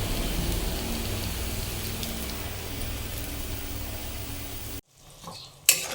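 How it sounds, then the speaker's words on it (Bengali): Spices fry in a pan on a home stove, a steady crackling sizzle that drops away suddenly near the end, followed by a few faint knocks. "ওখানে আমি মশলাটা একটু ভেজে নিচ্ছি। মশলাটা ভালো করে ভেজে নিচ্ছি।"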